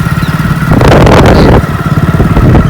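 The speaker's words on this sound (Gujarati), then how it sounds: "જોઈ લો જયેશભાઈ બાઈક ચલાવે" A motorcycle engine runs loudly and steadily close by, with a surge of revving in the middle before settling back to a rumbling drone.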